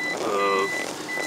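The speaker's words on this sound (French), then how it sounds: "en marche arrière, on entend un petit bip bip" A vehicle's reversing alarm beeps steadily with a high, tonal pulse over a continuous background hum of traffic or engine noise.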